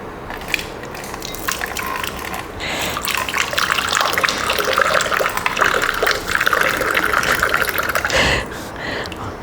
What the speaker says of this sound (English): So water is now getting poured from 2 feet into the empty glass.